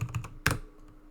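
Quick computer keyboard typing up close, a few rapid clicks followed by one sharper key strike, then fading quiet.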